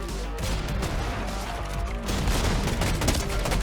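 Dense, continuous rapid gunfire in the Fortnite video game, loud and close with overlapping bursts and no pauses.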